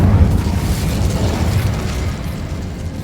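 A fire spell cast in the Hogwarts Legacy video game gives a steady, loud, low roaring whoosh of flame lasting about three seconds, with no voices over it.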